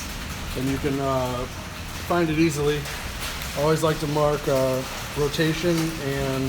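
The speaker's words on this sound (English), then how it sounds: "Sorry about the rain, it's really coming down." Heavy rain pours steadily outdoors while someone talks throughout about installing freshly powder-coated wheels on a lightweight racer, the downpour forming a constant wash of noise beneath his voice.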